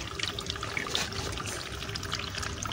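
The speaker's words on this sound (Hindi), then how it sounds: "पानी की आवाज़ आ रही है ना आपको, ऐसे आता है पानी।" Water flows and pours steadily at a mini zoo, a close, continuous splashing trickle with a brief louder gush near the start and no speech.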